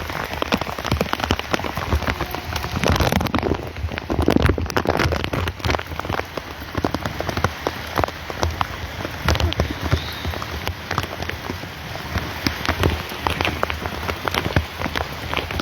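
Heavy rain pours steadily in the hills, a dense, loud and continuous hiss of drops striking surfaces, with a few sharper splashes and no clear voices.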